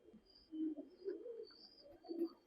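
Teddy breeder pigeons give soft, low coos, three or four faint murmuring calls spaced across a quiet background.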